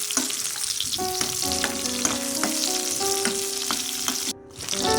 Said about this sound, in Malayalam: എണ്ണയിലൊന്ന് ഈ ഉള്ളി ഒന്ന് നല്ലപോലെ ഒരു കളർ മാറുന്നവരൊന്ന് വഴറ്റിയെടുക്കണം